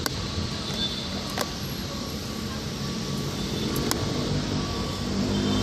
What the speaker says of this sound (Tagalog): Hashtag jeepney aka utility vehicle in the Philippines.